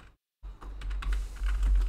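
Fingers type a file name on a computer keyboard, a quick close run of crisp key clicks after a brief silent pause.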